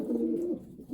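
Racing pigeon cooing softly at close range, one low, throaty coo rolling out and tailing off, quiet and without talk.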